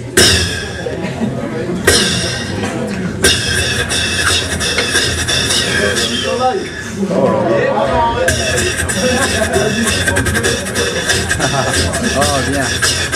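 A beatboxer imitates open hi-hats with his mouth during a solo beatbox show, giving sustained hissy, sizzling breathy sounds that run nearly continuously for several seconds, close and loud, against a murmuring audience.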